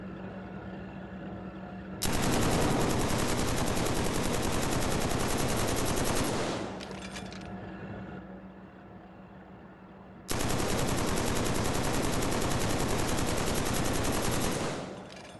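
A machine gun in Killzone 3 multiplayer fires in two long continuous bursts, a dense loud rattle sustained for several seconds each, separated by a quieter pause.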